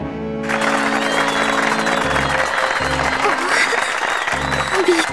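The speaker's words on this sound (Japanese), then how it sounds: "すごい拍手をありがとう。" Crowd applause in the video game Love Live! School Idol Festival All Stars, a dense, loud burst of clapping that starts abruptly and holds steady throughout, with a low looping music bed beneath it.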